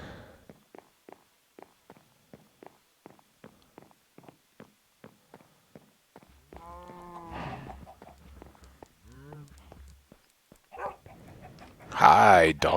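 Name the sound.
dogs in Minecraft video game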